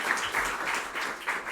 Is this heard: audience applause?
yes